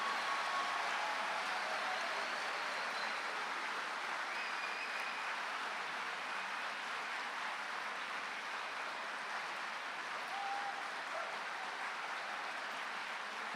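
A graduation ceremony audience warming up with applause, a dense steady wash of many hands clapping throughout a large hall, sustained and even with no voices over it.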